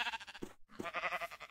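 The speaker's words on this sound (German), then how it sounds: "Hey, Schaf." A sheep in the Minecraft video game bleats in two quick wavering calls separated by a short silence, clear and moderately loud.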